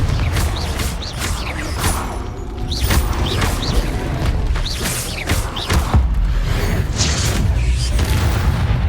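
Confringo blasting spell explosions in the Hogwarts Legacy video game, a run of loud booming blasts with crackling debris and thuds over a dense, continuous game soundscape.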